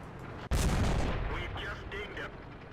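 A tank cannon fires once in the online video game World of Tanks, a sudden loud boom that rolls into a fading rumble.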